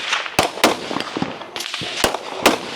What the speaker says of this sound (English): Quentin is already shooting